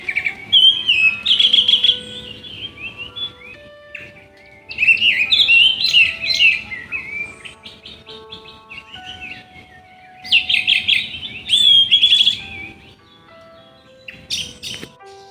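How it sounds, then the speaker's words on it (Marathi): Several birds sing bright chirping, whistling phrases in bursts on a cool morning just after rain in the Konkan countryside, loud and close with short quiet gaps between songs. "चारही बाजूला चार कोपऱ्यांना पक्षी बघा मस्त सुंदर अशा आवाजात गात आहेत"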